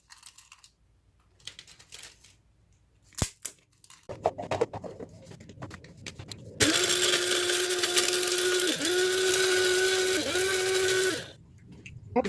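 A blender grinds dried pieces of home-dehydrated papaya into powder, starting after a few seconds of handling noise and then running loud and steady, with brief dips in motor pitch, before cutting off near the end.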